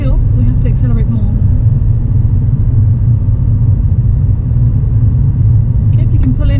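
A car engine rumbles loud and steady as it pulls uphill on a small road during a driving lesson, a continuous close drone from start to finish with faint talking over it.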